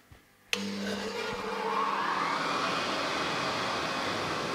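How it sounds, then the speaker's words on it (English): A vacuum pump for a CNC router workbench starts with a click and settles into a steady, loud mechanical whir and hum, running continuously nearby. "Here I have a vacuum pump"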